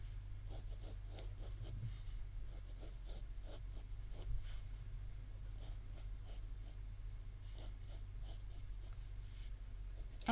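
Pencil scratching across paper while finishing a drawing of a horse, a steady close run of soft scraping strokes in short repeated bursts over a low background hum.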